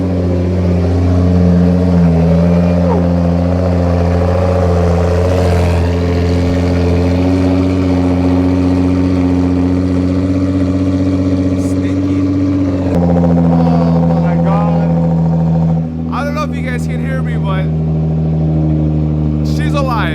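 A Ford Mustang Shelby GT500 engine idles roughly with a loud, uneven drone and shifts in pitch, while people speak over it intermittently.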